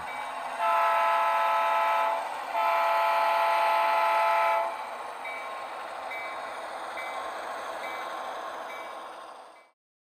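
Model railway train rolling off, a loud sustained horn-like tone in two long blasts over a steady running rumble that continues alone after the blasts stop.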